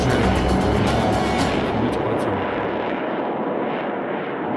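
Roar of a Su-27 fighter jet in flight, a loud continuous broadband rumble with a hissing upper edge that gradually eases and fades toward the end.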